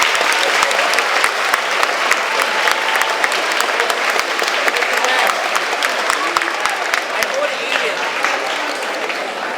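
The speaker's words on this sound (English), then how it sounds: "Matthew, if you could give him a round of applause." Sustained audience applause fills a school awards ceremony, dense and steady clapping from a crowd for about ten seconds, with sharp individual claps standing out near the front.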